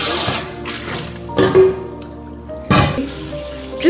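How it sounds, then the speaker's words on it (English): Water pours from a tap over soaked legumes in a stainless steel sieve, splashing in three separate bursts with quieter dribbling and clinking between them. "Just rinse till all the water is clean that comes from the legumes"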